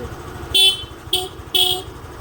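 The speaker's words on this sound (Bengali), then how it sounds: "বলে কিরকম হর্ন বাজে।" A vehicle horn with a run-down battery sounds three short, bright honks spaced about half a second apart, close and loud over a low engine idle.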